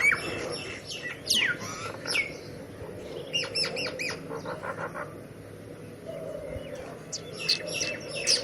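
Birds chirp and squawk around a rainwater pond in a village garden, bright tweets and short calls scattered over a quiet outdoor background, some near and some farther off.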